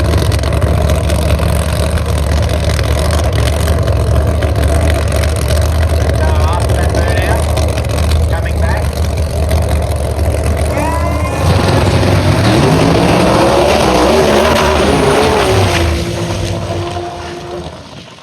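Race cars with 2JZ engines at the Kenda 660 Karnage in the Kanefields drag racing event, a steady loud engine drone with rising pitch sweeps as they run, under ongoing commentary.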